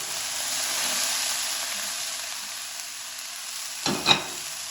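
Vegetables for a pulao sizzle steadily in a hot pan as they are stirred and fried, a broad continuous crackle with a couple of louder scraping stirs near the end; no one talks.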